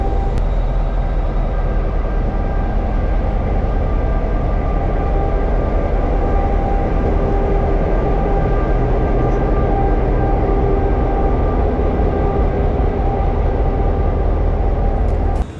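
Diesel locomotives of the Spirit of the Outback stand at the Nambour station platform, giving off a loud, steady engine rumble with a constant idling drone and no talk.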